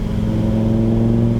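A Lamborghini Huracan EVO on a race track in Corsa mode, its engine holding a loud, steady, throaty drone at high revs for a brief moment, close by and without talking.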